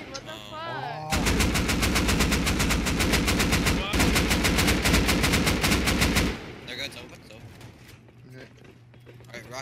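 Heavy automatic fire and rapid blasts in the video game Rust during a raid by a large group, with rockets being launched; a dense, loud, rhythmic barrage runs for about five seconds, then quieter scattered sounds and talk follow.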